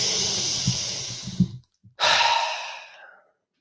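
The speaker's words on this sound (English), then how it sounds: "Keep on breathing." A person breathes deeply during a breathwork exercise: one long, loud, close inhale, a short pause, then a strong, airy exhale that fades out.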